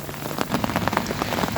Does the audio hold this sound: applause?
no